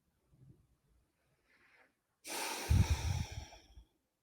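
One loud, forceful breath of air during a guided meditation, with a faint softer breath just before it.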